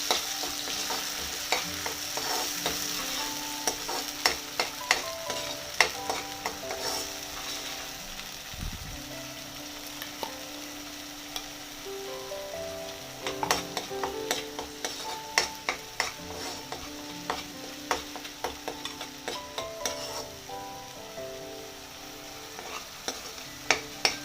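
Homemade masala being sautéed for a rajma sabji, a continuous sizzle under repeated close spoon scrapes and clinks against the pan that keep a loose, uneven rhythm throughout.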